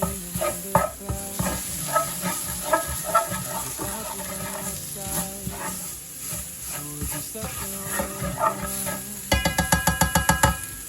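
Flour being stirred and cooked in a pan as the base of a marsala wine sauce gives a steady low sizzle under repeated scraping stir strokes, with a quick burst of rapid clatter near the end.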